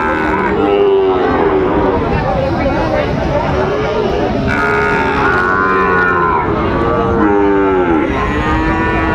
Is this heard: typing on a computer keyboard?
no